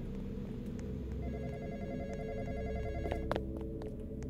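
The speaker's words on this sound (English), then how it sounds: "Answer the phone again?" Inside a Roblox horror game, a telephone rings with a steady repeating electronic trill over a low droning background, followed by a few sharp clicks near the end.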